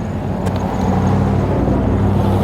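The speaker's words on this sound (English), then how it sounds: "we got a lot of cars there, it's kind of loud" Loud, steady rumble of nearby road traffic, engines droning continuously with a faint tick or two near the start.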